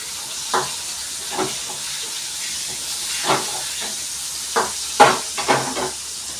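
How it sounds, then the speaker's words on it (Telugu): Fish frying in hot oil, with a steady sizzling hiss running throughout and several louder spits and pops, most prominent near the end, with no talking. "మొత్తం చేపలన్నీ వేగిపోయి మొత్తం చేపలన్నీ అయితే ఫ్రై చేయిస్తాను"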